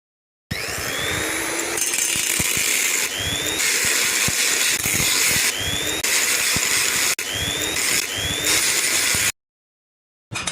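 A power tool cuts through a metal pipe while making a metalworking tool, with a loud continuous whining grind that runs for several seconds, broken by brief pauses and rising pitch sweeps as the blade bites.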